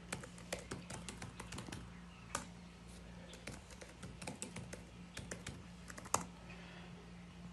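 Someone types on a computer keyboard to sign in to an account. The keys give quiet, uneven clicks, with a louder tap near the end, over a faint steady hum.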